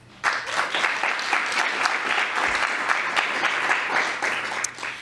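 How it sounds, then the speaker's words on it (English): An audience at a festival welcome session bursts into steady applause, dense sustained clapping that starts abruptly and holds at an even level. "A round of applause."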